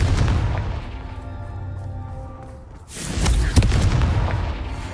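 Confringo fire spell in Hogwarts Legacy, a heavy explosive boom blasting out with a rumbling burst and crackling debris after a quieter stretch of ambient tones, loud and close.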